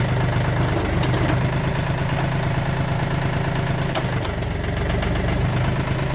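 A backhoe engine chugs loudly and steadily up close while the machine digs and lifts dirt, a heavy rumbling drone with a knocking pulse and occasional clanks over it.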